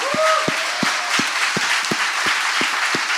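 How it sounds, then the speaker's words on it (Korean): A congregation at a church revival service applauds in a broad wash of clapping. Regular, strong rhythmic claps sound through it, and a brief voice is heard near the start. "하나님께 모두 영광의 박수 올리겠습니다"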